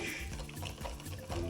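Salt water, 200 ml with 20 grams of sea salt dissolved, poured into a Neapolitan pizza poolish, a soft wet splashing pour running steadily for a moment.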